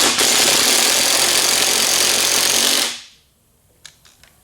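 An impact wrench rattles loudly and continuously for about three seconds as nuts are tightened down on a machine spacer during a rebuild of an old NASCAR into a street car, then stops abruptly, followed by a couple of faint clicks.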